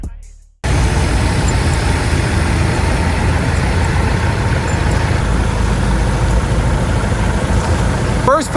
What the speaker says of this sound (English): we got most of the machines fired up, ready to go here